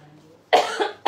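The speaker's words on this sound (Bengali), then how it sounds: "এত কাশি হয়েছে" A person coughs once loudly and close by, and a second cough starts just as the clip ends.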